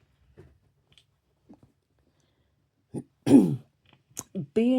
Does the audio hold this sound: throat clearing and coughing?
yes